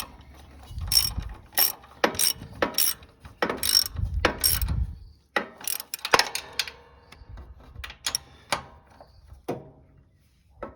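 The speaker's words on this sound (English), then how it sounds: "He'll get a wrench on it. We'll snug her up." A wrench snugs up a bolt on a Cub Cadet lawn tractor during an engine swap, giving a run of close, crisp ratcheting clicks in quick bursts with short pauses between them.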